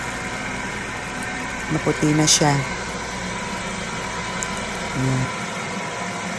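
A rice milling machine runs steadily while hulling palay, giving a constant mechanical drone with a vibrating hum. A person speaks briefly over the noise.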